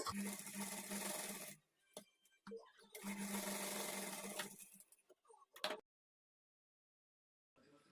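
A sewing machine stitches a blouse front panel in two bursts of steady, rapid mechanical whirring, each about one and a half seconds, separated by brief pauses and ending in silence.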